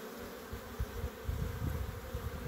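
Honeybees laden with nectar come in to land at the hive entrance's flight board, a soft continuous buzz of many wings with faint irregular thumps of landings.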